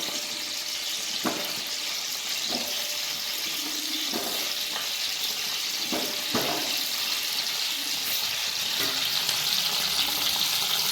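Half a kilo of lemons sizzle and fry in hot coconut oil for a lemon pickle, a continuous bright crackling hiss with occasional soft knocks from stirring.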